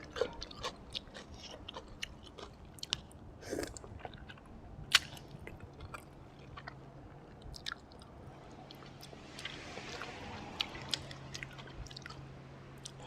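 Someone eats spicy, tender chicken-feet salad with fermented fish sauce alongside crispy snacks, with close, wet chewing and squishing punctuated by scattered sharp crunchy bites over a long stretch, without talking.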